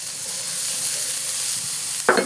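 Chopped garlic sizzles in a pan with onions and peppers, a close, steady frying hiss throughout, with a brief stirring scrape near the end.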